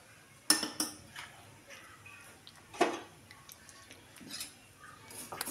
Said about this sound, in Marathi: त्याच कढईमध्ये मी शेवया भाजून घेते मग, आणि अजून थोडंसं तूप घालून घेते मी ह्याला.